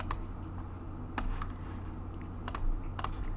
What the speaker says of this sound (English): we'll press Command V to paste the new color